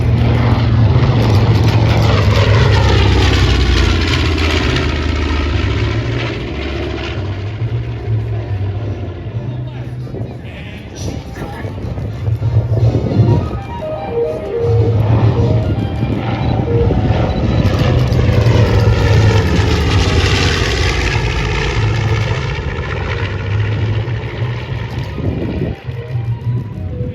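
The B-25 bomber Panchito makes a pass at the 2023 Great West Virginia Airshow in Martinsburg, its loud piston-engine roar swelling and fading throughout while an announcer and the crowd talk over it.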